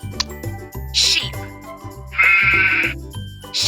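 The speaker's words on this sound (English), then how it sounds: "Sheep." Sheep bleat loudly and close by, giving several wavering calls one after another.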